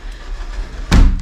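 A heavy door of a house in Germany swings shut with one close, solid thud after a brief rustle of movement.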